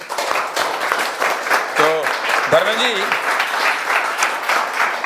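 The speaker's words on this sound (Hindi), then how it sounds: "ताली बजाओ भाई" A studio audience in a news studio gives a sustained burst of dense, loud applause, with a voice speaking briefly over the clapping.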